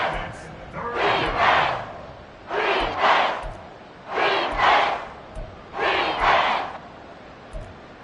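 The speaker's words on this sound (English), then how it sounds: "This crowd turning up the decibel level." A stadium crowd in an EA Sports football video game chants in loud rhythmic bursts, each swell rising and falling about every second and a half, repeating four times.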